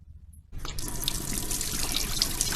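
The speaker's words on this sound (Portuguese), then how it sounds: "E eu vou provar isso abrindo essa torneira." A faucet is turned on after a brief near-silence, then water gushes steadily and loudly from the tap, splashing without pause until the end.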